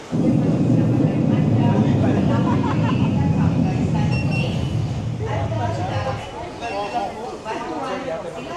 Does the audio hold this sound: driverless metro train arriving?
yes